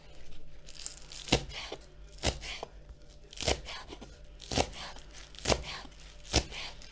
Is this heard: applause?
no